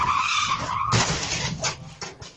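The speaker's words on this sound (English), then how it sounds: "A car slammed into a power pole." A car skids down a sidewalk in Provo and crashes into a power pole, with a loud, sustained tire squeal followed by several harsh, noisy bursts of impact and scraping. No one speaks.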